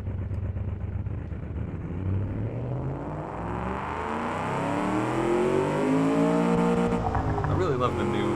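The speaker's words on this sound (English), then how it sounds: "Small displacement V8, high revving with individual throttle bodies on mechanical fuel injection." A small-displacement V8 in the Automation game, high-revving with individual throttle bodies and mechanical fuel injection, climbs steadily on a reverberant dyno, its rising drone loud and continuous with some talk over it.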